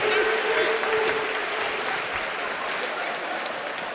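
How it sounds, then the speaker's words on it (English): Crowd applause for the fighters at a Blood and Glory fight night, a steady, moderately distant clapping wash that holds evenly and fades slightly, with a voice faintly in the background. "Ladies and gentlemen, big round of applause for the fighters"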